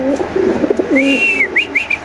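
Caged pigeons at a pigeon sale coo close by, making low rolling coos followed by a few higher whistling calls, loud and clear, with no voices.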